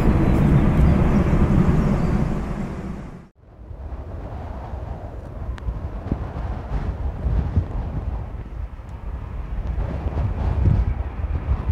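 A Cathay Pacific Airbus A350-1000 on its delivery flight takes off from runway 14 left. Its jet engines give a loud, steady roar that dips briefly, then continues as a broad rumble mixed with gusty wind noise on the microphone.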